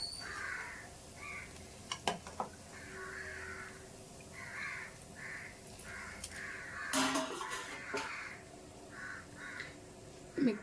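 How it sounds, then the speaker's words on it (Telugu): Outdoor birds, crow-like caws and chirps, call repeatedly in a steady rhythm at moderate distance over a low background hum, with a few louder sharp sounds near the middle and end. "వీడియో తీద్దామంటే ఏ ఒకటి పిచ్చుకలు అరుస్తుంటావి."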